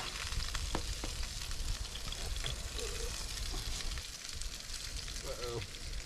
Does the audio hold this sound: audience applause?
no